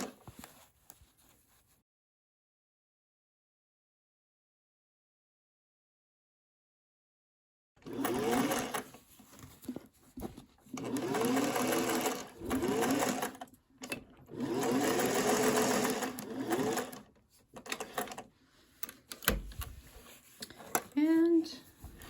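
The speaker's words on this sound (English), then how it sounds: "back to sewing again." A sewing machine stitching a laptop case runs in several loud close bursts of rapid mechanical chatter after a stretch of near silence, with brief pauses between runs and a voice speaking near the end.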